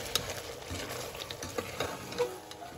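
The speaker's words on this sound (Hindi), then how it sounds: "और मसाला डालने के बाद अच्छी तरीके से आप इसे चला लें।" A spice masala being stirred into mutton liver (kaleji) frying in a pan, with soft scraping and light sizzling under scattered small ticks and clinks, steady and close.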